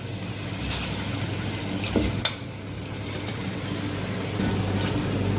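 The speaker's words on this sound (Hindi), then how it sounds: "बीफ डालने के बाद 2 से 3 मिनट मैंने इसकी भुनाई कर ली अच्छी सी" Beef sizzles steadily in a pan for a few seconds, a continuous close frying hiss with faint stirring scrapes and no talk.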